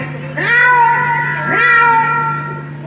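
A cat lets out two long, drawn-out meows close to the microphone, each rising then sliding down, over a steady low hum.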